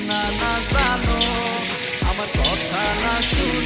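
Shredded cabbage and potato fry in hot oil with a steady, loud close-up sizzle, punctuated by repeated scraping stirs from a utensil against the pan.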